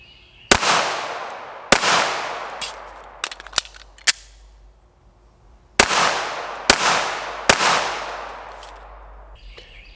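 Canik SFx Rival pistol fired in a series of sharp, loud, close shots with echoing decay, spread as a few spaced rounds, then a brief lull, then three more quick shots.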